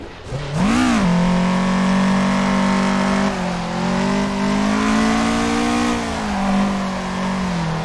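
A car engine revs hard and holds high during a drift wall ride, a loud sustained roar that rises sharply near the start and then drones steadily with small swells.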